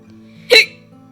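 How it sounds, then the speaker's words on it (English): A single sharp hiccup from a person, close and loud, a short burst standing out against a quiet background hum. "I have hiccups, and I hate it."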